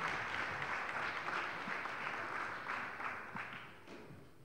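Soft, distant applause from an audience at a provincial sports awards ceremony fills the room evenly as an athletics prize is handed over, with no talk over it.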